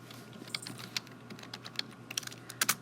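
Typing on a computer keyboard while searching for a scientific calculator: scattered, light key clicks in short irregular bursts, fairly close and quiet, with no voices.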